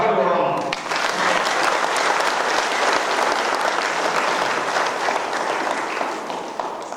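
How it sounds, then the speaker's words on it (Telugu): Sustained audience applause at an anniversary celebration of a pyramid meditation centre, dense clapping from a large crowd filling the whole stretch, loud and steady before fading slightly at the end. "అందరూ చప్పట్లు కొడదాం."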